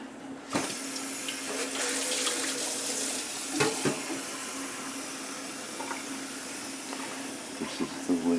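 Water runs steadily from a tap while coffee is being made with a Keurig using a reusable pod, a continuous hiss with a few clinks and knocks over it at moderate distance.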